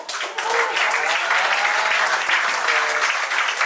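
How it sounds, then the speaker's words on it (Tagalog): Sustained audience applause at a corporate kick-off training event, a dense, steady wash of many hands clapping that stays loud and even for the full few seconds without talk over it. "Palagpakan natin, Christine Dine Perez, Level 5, MacBook"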